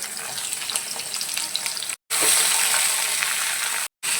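Vegetables dropped into hot tempered oil in a pan sizzle loudly and steadily, a bright continuous frying hiss broken by two brief cuts.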